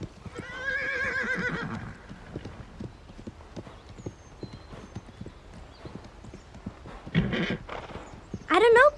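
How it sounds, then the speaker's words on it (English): Horses whinny loudly in a TV show, opening with a long neigh, followed by a steady run of hollow hoof clip-clops, then more short whinnies near the end, with some speech mixed in. "We start with some great horse whinnying sounds."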